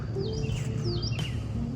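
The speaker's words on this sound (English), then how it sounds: "Hear the birds chirping." Birds chirp at a campsite beside a trail, a few quick sweeping tweets, faint and slightly distant over a low outdoor hum.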